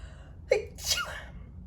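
A single close sneeze, a sharp intake followed by a forceful burst, then quiet.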